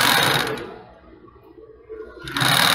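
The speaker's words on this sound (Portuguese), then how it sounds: "essa máquina ela costura com duas agulhas e a gente vai costurando e girando" Two-needle topstitching sewing machine stitching bias binding onto a bra cup: a loud, fast mechanical chatter that slows and quiets in the middle while the piece is turned, then picks up to full speed again.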